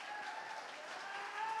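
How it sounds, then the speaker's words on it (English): Brief, faint applause from a gala audience, steady and even throughout. "Another big round of applause for Julian."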